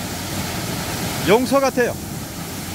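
Simwon Falls on Dojangsan mountain, a waterfall of about 20 metres dropping over rocks, gives a steady broadband rush throughout, and someone speaks briefly over it.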